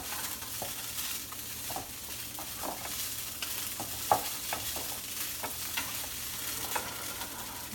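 Fish laab ingredients are tossed and mixed together in a bowl, making soft irregular scraping and clicking sounds over a quiet background, with no talking.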